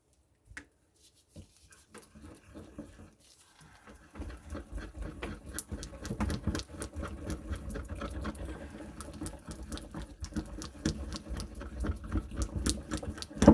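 Chalk is ground vigorously into a creamy pigment paste, giving a quiet, close, continuous scraping and pattering rub that builds up after a near-silent start.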